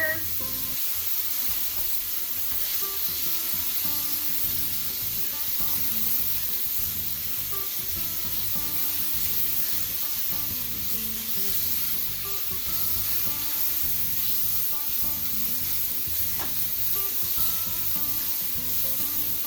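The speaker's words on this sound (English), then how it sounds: "So while those mushrooms are still cooking, we're gonna add our garlic and our chili powder." Mushrooms cook with garlic and chili powder in a pan, giving a steady, dense sizzle with faint scraping stirs throughout, close-up and continuous with no voices.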